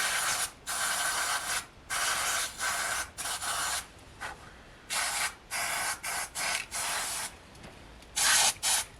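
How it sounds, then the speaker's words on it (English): Canned compressed air is sprayed into a chainsaw in a string of loud hissing bursts, some short and some over a second long, with brief pauses between them and no talk. "I don't have compressed air, but I use this from the can"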